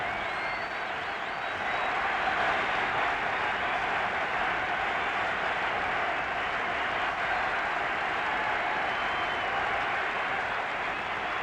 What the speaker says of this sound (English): the crowd rapturous in their welcome